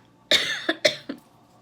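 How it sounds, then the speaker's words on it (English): A single close, harsh cough burst followed by a few shorter rasping coughs, loud and isolated. "I'm sorry about the coughing"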